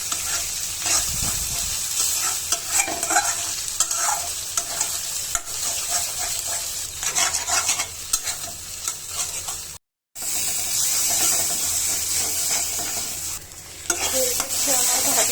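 Pointed gourd (potol) slices sizzle steadily in hot oil in a pan, a close, continuous frying hiss with occasional stirring scrapes, alone without voices.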